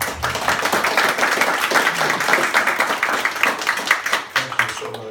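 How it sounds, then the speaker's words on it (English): Audience applause at a church service, a dense burst of many hands clapping that holds steady for several seconds before thinning out toward the end. "Let's have a round of applause for Jackie."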